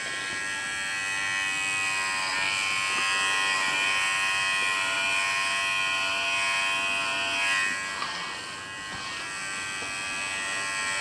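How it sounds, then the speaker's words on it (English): Electric clippers shearing the thick fur of an Angora rabbit, a steady close-up buzzing hum that holds for about eleven seconds with only slight shifts in pitch as the blade moves through the coat. "This is why I use the clippers."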